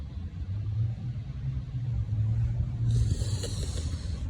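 A car engine rumbles at idle, a low steady hum nearby with a faint higher whine joining near the end, no speech.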